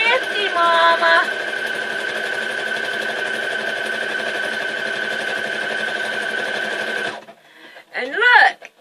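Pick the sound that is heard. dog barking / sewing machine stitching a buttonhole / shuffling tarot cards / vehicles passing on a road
sewing machine stitching a buttonhole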